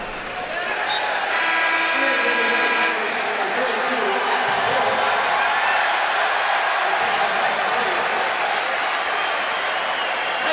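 A basketball arena crowd at a Wagner vs Missouri game cheers and applauds loudly and steadily as junior Adam Wolf checks in off the bench, with scattered whoops rising above a dense roar and voices mixed in.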